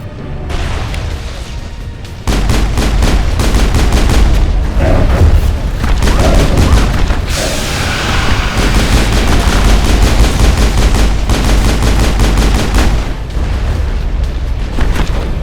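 Loud, sustained gunfire and heavy booms from a Mass Effect battle, with rapid automatic bursts and explosions running almost continuously, densely layered and close.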